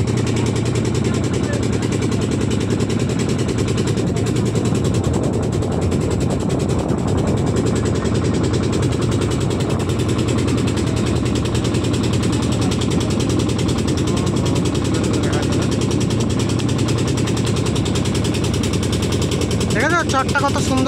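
A river boat engine, likely a small motor on the Padma near a char island in West Bengal, drones steadily and loudly throughout, with mechanical rattling and some voices mixed in.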